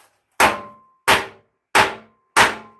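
Metal being hammered while making crusader armor, four loud, evenly spaced ringing clangs with short decaying tails and silence between strikes.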